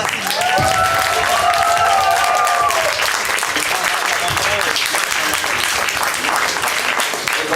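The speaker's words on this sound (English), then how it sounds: "Give them a warm applause." Audience applause fills an opening ceremony hall after national delegations are welcomed one by one, a steady dense wash of clapping that continues throughout, with a voice talking over the opening seconds.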